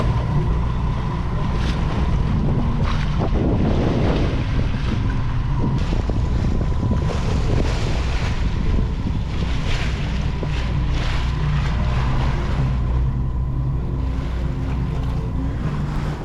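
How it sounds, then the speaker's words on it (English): A sailboat moves through open sea under wind, with loud wind rumble buffeting the microphone and water rushing and slapping against the hull, all continuous and close, without speech. "the wind filled in just enough for us to sail"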